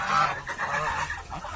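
Black geese give a short burst of nasal honks, several calls close together and fairly near, over a brief stretch.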